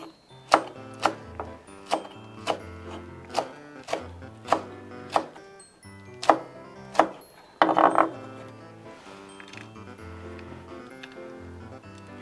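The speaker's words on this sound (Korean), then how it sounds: "좀 칼칼한 맛이 나게 청양고추를 두 개만 썰어 넣겠습니다" A knife chops through two Cheongyang chili peppers on a board in a string of sharp, evenly spaced knocks, then a louder clattering burst and a quieter tail of softer cuts.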